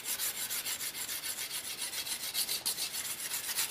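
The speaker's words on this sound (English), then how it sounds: "I took the back of this. First, I scraped off this light fluffy stuff." The back of a knife blade scrapes the light fluffy outer layer off a length of bamboo in quick, rhythmic rasping strokes, close and fairly loud with no voices.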